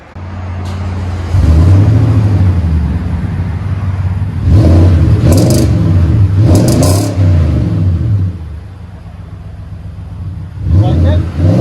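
A Nissan Titan pickup with a 5.6L engine and a Flowmaster Super 10 exhaust (dual in, single out, into a double-walled dual outlet tip) revs loudly in several deep bursts, settling to idle between them.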